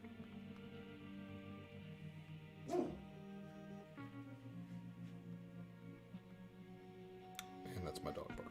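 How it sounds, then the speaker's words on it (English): A dog gives a single short bark in a quiet room, with a quiet voice and faint background music. "that's my dog barking."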